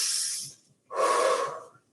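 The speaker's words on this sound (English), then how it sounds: "Inhale and exhale." Breathing during an exercise class: one long airy exhale fading out, a short pause, then a fuller, louder breath lasting about a second before trailing off, close and clear with no talking.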